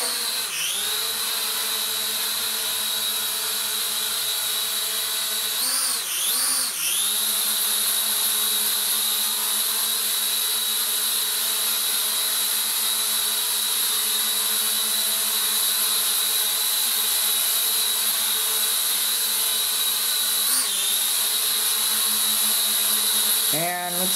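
A Deerc drone hovers nearby with a steady high-pitched propeller whine, its pitch dipping and swooping briefly as it maneuvers, continuous and fairly loud.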